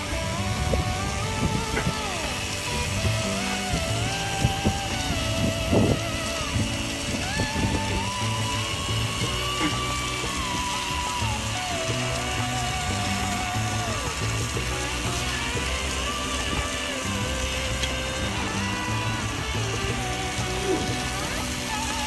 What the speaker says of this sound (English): now we're going to shoot it with the Albium cordless battery operated gun